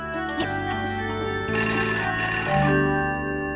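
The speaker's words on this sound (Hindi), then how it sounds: "किसका फोन था?" A telephone ringtone plays continuously, a bright electronic melody stepping through changing tones, close and fairly loud with no talking.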